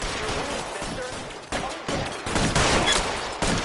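Dense gunfire during a shootout in L.A. Noire, rapid overlapping shots forming a loud, continuous fusillade with sharp bursts at intervals.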